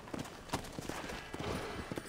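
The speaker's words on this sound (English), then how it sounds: "Here comes my magic horse." Horse hooves clip-clop along in Red Dead Redemption: Undead Nightmare, a steady rhythmic trot close by amid game ambience, with a few sharp sounds like distant gunfire mixed in.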